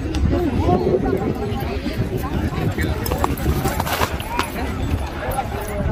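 A Mangalarga crossbred mare walking at a horse fair in Belo Jardim, Pernambuco, her hooves clip-clopping in a loose rhythm beneath continuous nearby talking and crowd bustle.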